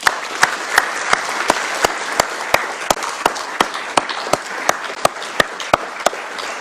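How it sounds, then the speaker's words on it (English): An audience applauds the Redmond Police Department at a police awards ceremony: steady, moderately loud clapping with sharp individual claps punctuating it, sustained throughout. "Please join me in a round of applause for our Redmond Police Department."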